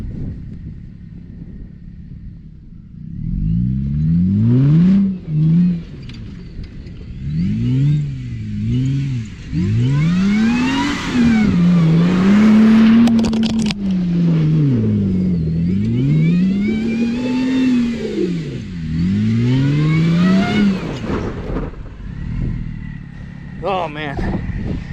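Supercharged Jeep Wrangler engine revving hard and accelerating close by, pitch sweeping up and down through repeated gear pulls, loud and continuous over about twenty seconds with brief exclamations from a person.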